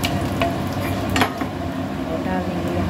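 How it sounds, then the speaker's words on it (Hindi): Cumin seeds and whole spices added to hot oil for a pointed gourd masala fry, producing a loud, continuous close sizzle with a few sharp metallic clinks of a utensil against the pan. "तो यहाँ तेल गरम हो गया है, यहाँ पर हमने डाल दिया जीरा और ये डाल देंगे खड़े मसाले"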